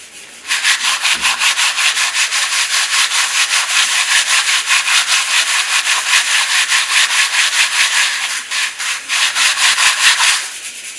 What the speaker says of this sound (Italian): stiamo grattando lo stucco